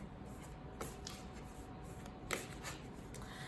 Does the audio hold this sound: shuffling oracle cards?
yes